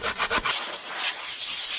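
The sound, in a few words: sanding with 80 grit sandpaper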